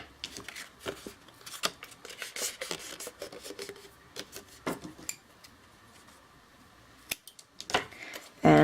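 Paper card is trimmed with scissors in a string of quiet, crisp snips and light rustling spread irregularly over several seconds, close by, with no talking.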